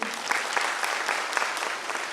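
An audience claps warmly at a celebration programme in Raipur, Chhattisgarh, a dense, even patter of many hands sustained throughout without a pause.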